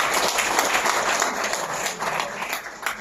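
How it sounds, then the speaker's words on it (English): A conference audience applauds loudly and steadily at a product presentation, dense continuous clapping from many hands filling the room, holding level before easing slightly at the end. "Can we give Riway a big round of applause?"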